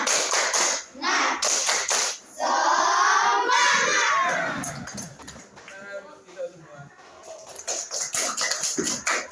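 A class group performs a rhythmic spirit cheer, with bursts of unison clapping and shouted chanting alternating with group voices, loud and close, in choppy patterned phrases.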